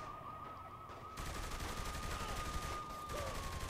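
Gunfire in the game Saints Row: The Third, a sustained, dense rattle of shots mixed with a steady siren-like tone, fairly faint throughout.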